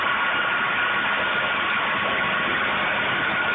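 Hoover 0519 Deluxe washing machine on its spin cycle at around 2,800 RPM, a steady, loud, even whirring drone with no change in pitch and no voices.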